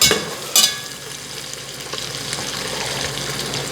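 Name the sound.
bacon chips being stirred while cooking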